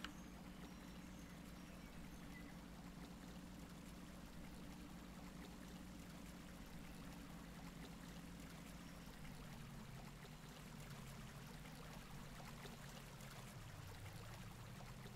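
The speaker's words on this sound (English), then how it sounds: "why is the sound of running water so loud?" Running water plays in the Professional Farmer 2017 farming simulator: a steady, faint trickling stream that continues evenly and unbroken, alone with no talking.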